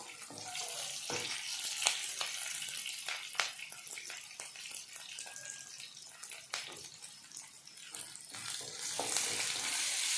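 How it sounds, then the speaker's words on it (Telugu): Sliced onions and green chillies fry in a pan for Andhra-style upma, giving a steady crackling sizzle with scattered sharp pops close by and no talking. "ఆనియన్స్ మరీ బ్రౌన్గా వేగాల్సిన అవసరం లేదు. ఇప్పుడు మనం పచ్చిమిర్చి వేస్తాం"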